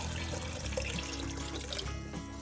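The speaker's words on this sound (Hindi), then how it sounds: "मैं पानी डाल दूँगी।" Water poured from a tap into a pot of two large potatoes cut into small pieces, a steady close rushing stream running without a break and with no talking.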